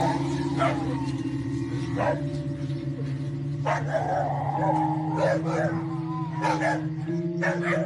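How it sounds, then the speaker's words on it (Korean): Dogs barking at night in Mexico, several sharp barks and yips scattered over a constant droning background hum, with a voice talking over the recording. "개 짖는 소리가 심상치 않는데 자세히 들어보면 단순 동네 똥개 싸움이 아니란 걸 알 수"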